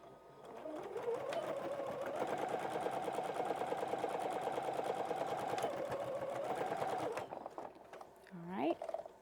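A sewing machine runs in one steady, fast stitching burst of about seven seconds while sewing a pumpkin T-shirt patch. It stops abruptly, followed by a brief squeaky sound.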